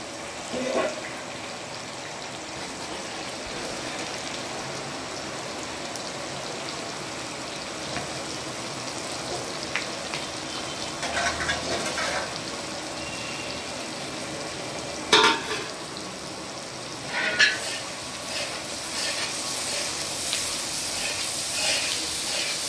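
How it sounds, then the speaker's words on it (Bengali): Mutton going into a pan with whole garam masala and onions for a village picnic curry, giving a steady close sizzle and frying hiss with occasional stirring scrapes throughout. "মটন স্টার্ট হচ্ছে, চলে গেল প্রথমে গোটা গরম মশলা, তারপরে চলে এলো পেঁয়াজ"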